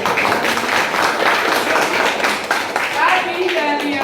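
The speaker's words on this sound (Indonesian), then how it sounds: "tepuk tangan dulu untuk semuanya" A classroom of students claps for all the groups after a physics lesson task, brisk continuous clapping with voices mixed in, close and lively.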